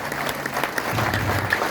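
A church congregation claps together during a pastor's sermon, a dense, steady wash of applause lasting under two seconds, with a faint low tone humming beneath it.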